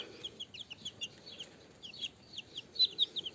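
Newly hatched chicks in a village farmyard peep and chirp rapidly in a busy chorus, high-pitched and close, with a few louder calls near the end.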